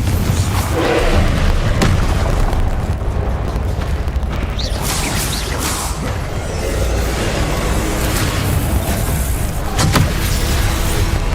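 Explosive spell blasts in a Hogwarts Legacy fantasy battle, loud booming bursts repeating over a dense, continuous din of combat effects with no pauses.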